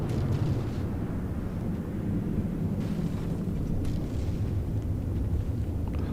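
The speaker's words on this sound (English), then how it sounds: "There's that bomb load. Coming in quite nicely." Bombs exploding in the From The Depths naval combat game, a continuous heavy low rumble of blasts and booms blending into a sustained roar with no clear gaps, no talking.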